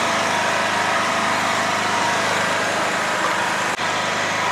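Generator engine running under a 2 kilowatt load at second speed, a loud, steady high-pitched buzz with constant tone, close up and uninterrupted apart from one brief dip.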